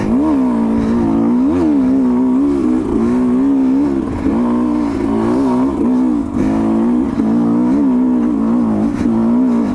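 A loud Sherco 250 SE two-stroke dirt bike engine revs hard and close, its pitch rising and dipping repeatedly as the throttle is worked, with no talking.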